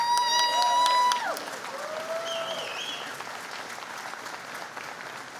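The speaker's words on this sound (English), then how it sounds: "Let's give them one more round of applause." A hall of fame induction ceremony for local athletes and builders in Milton, 2022, with an audience giving a round of applause. It starts as loud, dense clapping with a brief whistle or cheer, then settles into steadier, softer clapping across the hall.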